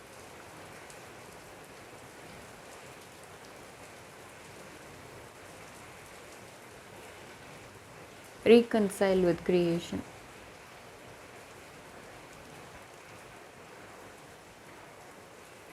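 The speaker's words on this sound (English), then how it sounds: "It's raining." Steady rain falls softly throughout, a faint even hiss, briefly interrupted by a short spoken phrase in the middle.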